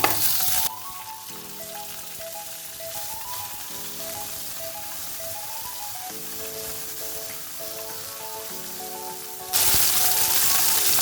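Cut okra added to hot oil with mustard seeds and fenugreek, giving a loud, steady frying sizzle that holds for several seconds before flaring up brighter near the end.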